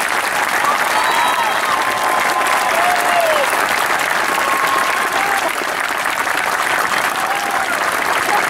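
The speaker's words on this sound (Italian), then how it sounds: "Quindi io preferisco mille volte l'applauso concordato" A live comedy-show crowd in Cerveteri breaks into loud, dense applause on a counted cue. The clapping is continuous and full and stays strong throughout, with a few faint whistles or calls mixed in.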